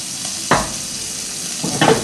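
Pork escalope seasoned with sea salt and pepper sizzles in a frying pan under a steady hiss, broken by two short scraping stirs of a utensil against the pan.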